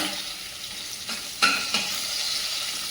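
Curry leaves drop into a frying green chilli, garlic and cumin paste, setting off two loud bursts of spluttering over a continuous close sizzle.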